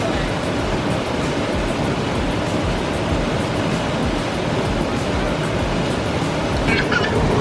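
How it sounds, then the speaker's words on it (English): A waterfall beside the Virginia Creeper Trail produces a steady, loud broadband rush of falling water, continuous and unbroken throughout, with no talk over it. "See the waterfall?"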